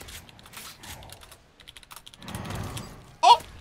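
Bursts of fast typing on a computer keyboard, close and fairly loud, mixed with game sounds and a sharp louder hit near the end.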